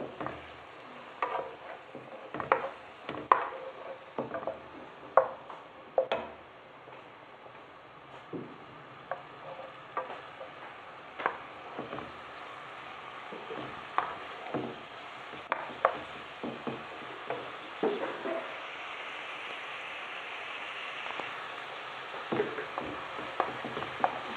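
Chopped onion sizzles steadily in neutral oil in a pan, with scattered clicks and scrapes of stirring over a constant frying hiss, moderately close and with no talking.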